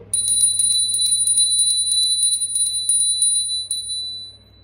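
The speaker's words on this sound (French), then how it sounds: "petit coup de cloche pour dire que c'est fini" A small ritual bell at the close of a white-magic initiation ceremony, rung as a rapid series of bright, high metallic strikes for about four seconds over a low steady hum, fairly close and alone without voices.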